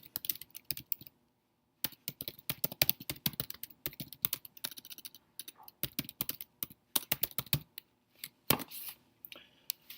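Fingers type on a computer keyboard in bursts of quick, close, light key clicks, broken by brief pauses and a few louder taps, while entering an event into a calendar app.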